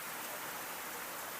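Early morning rain falling near a village health centre in Gele, Taliabu Island, North Maluku, a soft, even hiss of steady drops, constant and fairly quiet, with no voices.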